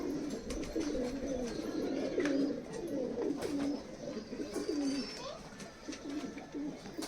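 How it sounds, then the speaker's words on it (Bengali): A golden pigeon coos repeatedly nearby in low, rolling throaty phrases, steady and rhythmic against a light background hiss. "একদম pure golden hundred percent pure golden কবুতর রয়েছে এটা"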